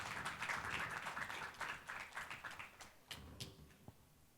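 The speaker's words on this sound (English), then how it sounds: "A big round of applause for this effort." A book launch audience gives a soft, fairly distant round of applause that starts dense and gradually thins into a few scattered claps before fading out.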